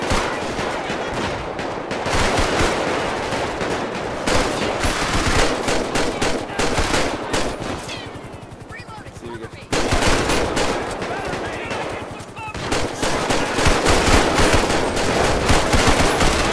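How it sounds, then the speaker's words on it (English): A robot enemy in GTA 5 keeps firing a machine gun, loud rapid sustained bursts that run almost nonstop, with a short lull midway before the fire resumes. "Oh crap, he's still shooting that thing."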